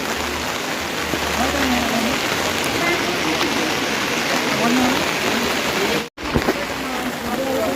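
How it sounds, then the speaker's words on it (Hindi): Heavy monsoon-style rain pours down steadily at the Narsinghnath Mela temple fair in a dense, loud hiss, with a brief dropout and some muffled background voices of fairgoers underneath. "बट आज के दिन बारिश देखो क्या झमाझम बारिश हो रही है"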